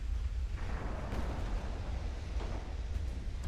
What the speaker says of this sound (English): Darn Japanese torpedoes,